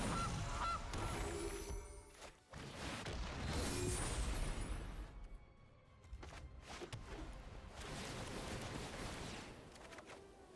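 Loud honking from a goose sound effect in the Magic: The Gathering video game repeats over a dense, noisy game soundscape with sharp bursts, continuing for about ten seconds without speech.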